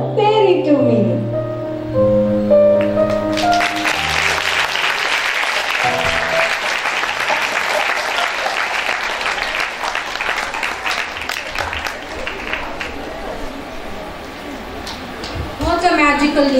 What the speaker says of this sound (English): Let's clap louder for our fairy.